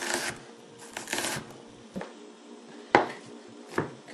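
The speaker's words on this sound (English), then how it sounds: "I'm just finishing up chopping here about a half a cup of brown mushrooms." Knife chopping brown mushrooms on a cutting board in a home kitchen, heard as a few scattered soft taps and thuds, close and fairly quiet, with no talking.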